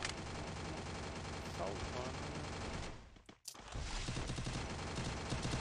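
Rapid automatic gunfire in a 2v2 video game match, dense sustained bursts filling the mix with a brief drop near the middle, while players talk excitedly over the shooting.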